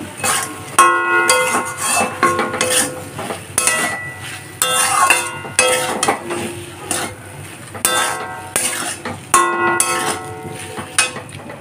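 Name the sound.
lightly frying okra and potato with spices in a pan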